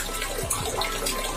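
Water runs in a weak, steady stream from a tap through a faucet filter, a soft continuous trickle and splash heard up close.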